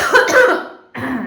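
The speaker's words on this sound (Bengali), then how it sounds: "কাশি হয়েছে আমার গো" A person coughs hard twice, the first a raspy burst of throat-clearing and the second a sharp cough after a brief pause, close and loud.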